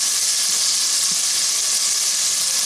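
Tomato and green chilies frying in a pan give a steady, bright sizzle, close and continuous, with no voices.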